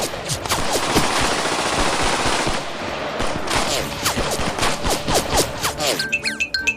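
Cartoon gunfire effect: rapid machine-gun bursts with ricocheting shots, loud and continuous, turning into scattered separate shots toward the end, with no talking over it.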